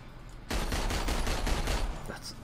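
Pistol gunfire in the video game Marvel Heroes, a dense burst of rapid shots that starts abruptly and keeps crackling steadily for about two seconds, loud and close.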